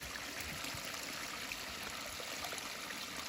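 A flowing stream runs steadily outdoors, a continuous soft rush and trickle of water with no voices, even in level throughout.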